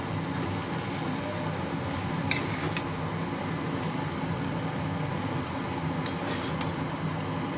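Boiled chow noodles being tossed together with small chopped egg pieces, with a few sharp utensil clinks against the bowl in two pairs over a soft, steady kitchen background; no one speaks.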